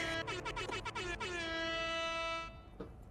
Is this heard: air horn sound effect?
yes